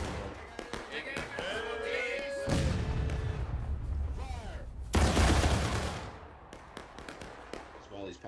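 Musket volleys in a War of Rights battle: two heavy, booming rolling fusillades a few seconds apart, with scattered single shots and crackle around them, while players talk over the gunfire.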